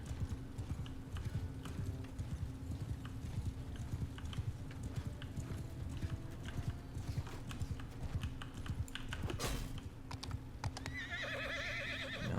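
Hooves clip-clop steadily in a medieval battle video game, with a horse neighing near the end, all under a constant background of computer keyboard tapping and clicks.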